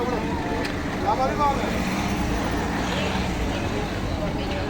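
Steady road traffic at night at Atatürk Forest Farm in Ankara, a busy area with kokoreç stalls and cars everywhere, forms a continuous close rumble with vehicles passing and crowd babble mixed in.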